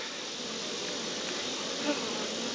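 Honeybees buzz around hives outdoors in a soft, even drone with a faint hiss, quiet and steady with no voices.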